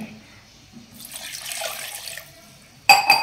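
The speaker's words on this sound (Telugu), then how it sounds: "తగినన్ని నీళ్లు వేసుకొని" Water splashes and trickles into a mixer jar of grated coconut for a couple of seconds, followed by a brief sharp clatter at the end.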